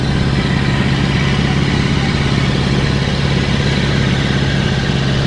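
A vehicle engine hauling fishing boats up a beach runs as a loud, steady, close rumble with a mechanical clatter. The drone continues unbroken for the whole stretch, and no talk is heard over it.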